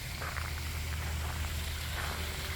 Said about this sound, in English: We have many water features around the property.